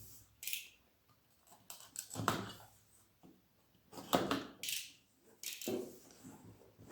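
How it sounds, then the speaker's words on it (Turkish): Scissors snip and tug at the security tape on a Samsung Galaxy Tab A7 2020 tablet box, followed by the rustle and scrape of the lid coming open, in several short close bursts with quiet gaps between. "Kutumuzu açıyoruz."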